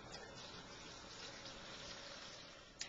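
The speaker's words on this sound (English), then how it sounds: "So we'll put some of our water into our rinse container." Water poured into a small plastic rinse container for dishwashing, a faint steady gushing stream running evenly throughout with a small knock near the end.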